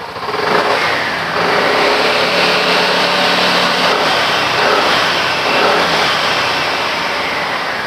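A BMW C400GT scooter engine revved with its rear wheel off the ground: a loud, close, sustained whine that surges and holds with no voices.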